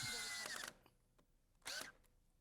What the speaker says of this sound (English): drills clearance holes for 3-inch rust-resistant deck screws, which will hold the frame together